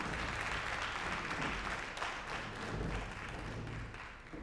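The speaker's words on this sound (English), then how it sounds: "Yes, give them a round of applause." Audience applause as debate teams walk onto the stage at a sorority-hosted debate event, a steady wash of clapping from a crowd in a hall, fairly distant and sustained, with faint background voices.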